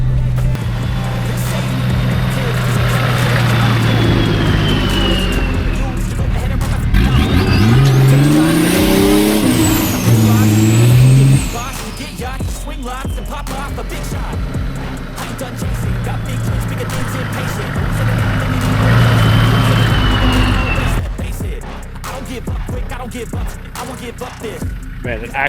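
Nissan-style TD42 turbo diesel engine driving an off-road trail, a steady loud drone with rising turbo whistle and revving surges, bumps and rattles throughout, up close.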